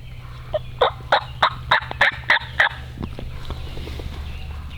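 A wild Kentucky turkey gobbler calls during a spring hunt, a rapid burst of about eight rattling gobble notes in quick succession, fairly clear at moderate distance over low background hum.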